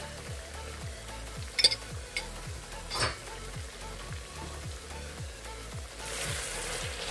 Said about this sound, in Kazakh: Кішкене томат пастасын қуырамыз.